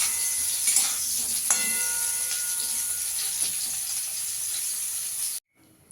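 Potatoes frying in oil in a pan for a paneer and cauliflower curry, a steady loud sizzle and hiss that runs without a break and then cuts off abruptly near the end.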